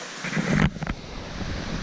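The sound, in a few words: river flowing near campsite, Great Smoky Mountains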